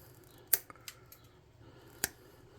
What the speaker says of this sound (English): Let me see if I can't trim it down a little bit more.